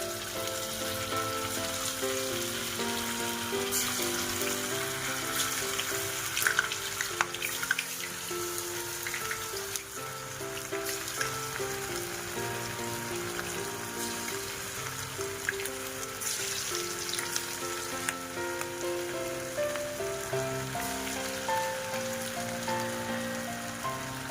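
Chicken simmers in biryani masala in a pan, giving a steady close sizzle and bubbling crackle, like rain on a surface, with no talk.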